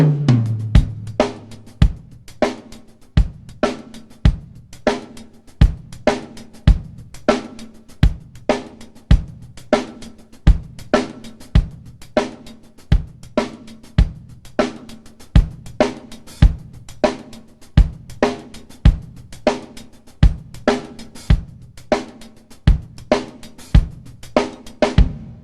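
A funk drum set groove that follows the bass line, with two hi-hats. A tight kick and snare pattern sits under busy, crisp hi-hat strokes, steady and close, played alone without talk.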